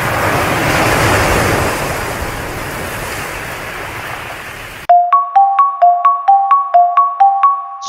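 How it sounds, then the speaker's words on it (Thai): Sea waves wash and roar in a broad, loud rush of surf that swells and then slowly eases, fading out abruptly to silence before a short run of repeated electronic tones. "คำตอบก็คือข้อขอไข่เป็นเสียงของคลื่นทะเล"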